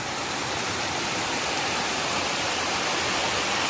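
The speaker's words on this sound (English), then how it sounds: "Just filled up some water at Chapel Creek." Creek water at Chapel Creek rushes steadily, a loud, close, continuous broadband wash with no break and no voices.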